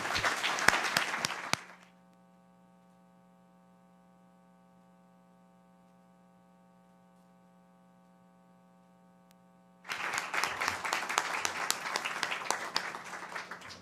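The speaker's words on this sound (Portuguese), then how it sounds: "pedir uma salva de palmas para o Almirante de Esquadra, Almirante Petroni" Audience applause for an admiral at an inaugural nuclear engineering lecture, full clapping that cuts off into a steady electrical mains hum, then breaks out again loudly for the final seconds.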